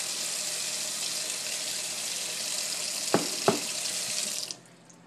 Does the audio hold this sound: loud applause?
no